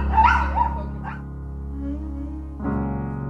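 A dog at an animal shelter gives a few sharp yips and barks near the start, then a thin whine over a steady low hum of the room, with a later rise in background noise.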